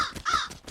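A crow caws several times in quick succession, harsh and fairly close, with short gaps between the calls.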